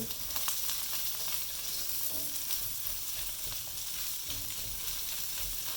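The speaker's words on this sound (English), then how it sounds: "Okay, and then we'll give this a fry." Mushrooms and mustard green stalks stir-frying for rice vermicelli, a dense, steady hiss of frying throughout with soft stirring scrapes underneath, close and fairly quiet.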